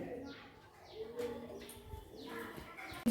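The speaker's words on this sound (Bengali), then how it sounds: "পাখিগুলো ওই দেখে এত চেঁচাচ্ছে চিন্তার বাইরে" Birds, apparently pigeons or doves, call loudly and repeatedly in a series of cooing, chirping bursts, with a voice faintly present in the background.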